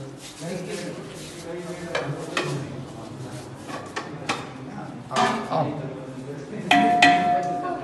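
Beef shorba curry being served into dishes, with clinks and knocks of pots, utensils and serving ware scattered through the clip, a sharper ringing clatter near the end, and faint voices in the background.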